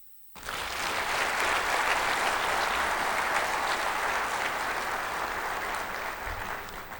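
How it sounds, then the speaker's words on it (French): Audience applauding at the opening ceremony of an African insurers' general assembly in Dakar, a dense, steady ovation that starts abruptly and holds loud and even throughout. "adresser à votre attention une demande d'applaudissement nourrie pour ce parrain"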